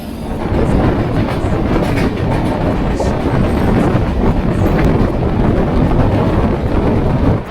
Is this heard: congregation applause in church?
no